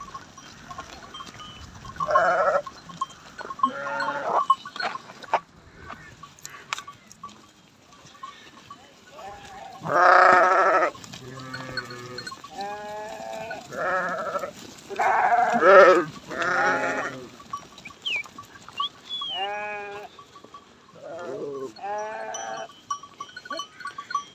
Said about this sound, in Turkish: Güzel damızlık kuzular da var erkek kuzu.